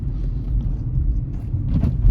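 A 2019 Kia Rio LX with 100,000 miles drives along, heard from inside the cabin as a steady, low road and engine rumble with no voices.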